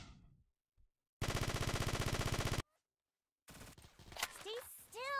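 Rapid automatic video game gunfire in one steady burst of about a second and a half, rattling evenly and loudly, then a pause before talk with squeaky sound effects follows.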